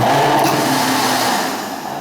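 A blender runs steadily, mixing a gluten-free, sugar-free moist corn cake batter, a loud continuous whirring motor that eases slightly toward the end.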